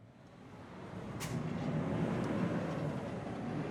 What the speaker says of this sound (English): as semi-trucks crawl the street and a commuter train zips by